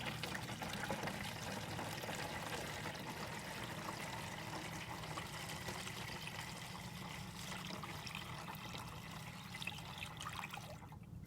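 Water pours steadily into a container of antifreeze concentrate, a continuous rushing, trickling stream with no voices, ending abruptly.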